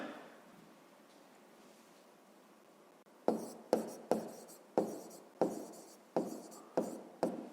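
Pen scratching across paper during a fifth-grade maths exercise, heard as a series of about eight short, sharp strokes in an uneven rhythm after a quiet start, close by and fairly soft.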